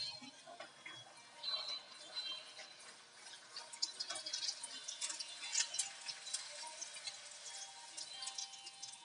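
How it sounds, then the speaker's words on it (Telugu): Beetroot pooris fry in hot oil, giving a faint, continuous crackling sizzle with scattered small pops and sputters, and no one speaks. "నూనె కాగింది కదండి, పూరీలు ఒకటొకటిగా వేసుకుందాం."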